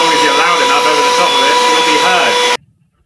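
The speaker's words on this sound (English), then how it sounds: "I've still got that hoover on over there, and it's absolutely deafening." A vacuum cleaner runs loudly nearby with a harsh, steady motor whine and hum for about two and a half seconds before cutting out abruptly into near silence.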